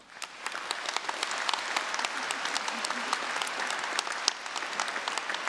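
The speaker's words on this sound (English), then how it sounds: "You really need a big round of applause," Dense, sustained applause from a large audience at a university graduation ceremony, rising quickly and holding steady with crisp, closely packed claps.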